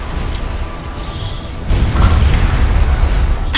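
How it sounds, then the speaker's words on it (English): A heavy explosion in the strategy game Supreme Commander 2, a deep rumbling boom that swells in and lingers loudly, with chained blasts rolling underneath and no talk. "So the explosion causes other ones to explode."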